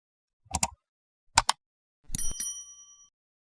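A subscribe-bell notification effect: two quick pairs of sharp clicks, then a bright metallic bell ring that lingers and fades over about a second, all crisp and isolated.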